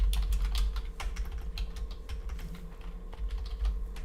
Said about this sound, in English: Sorry if my typing sounds like crazy loud.